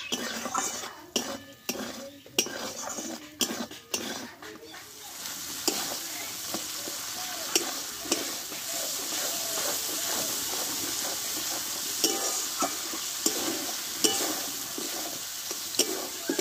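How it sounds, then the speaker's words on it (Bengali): Spice masala with tomato and salt is fried and stirred in a pan. A steady sizzle runs under repeated scraping and clinks of a spoon against the metal, close up, with a few quiet words spoken. "দেখো, মশলাটা ভালোভাবে কষে নিয়েছি।"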